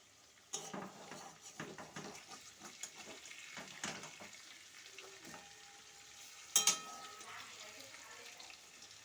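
Chicken pieces fry in butter and oil in a wok, with a quiet sizzle under repeated scraping and stirring strokes, light clinks of a utensil on the pan and one sharper clang near the end.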